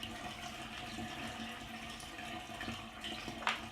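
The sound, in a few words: film negatives shuffled in final rinse water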